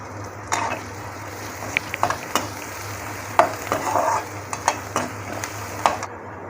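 Finely chopped onions, two large ones, fry in a pan with a steady low sizzle, punctuated by repeated scraping stir strokes and light utensil clinks close by.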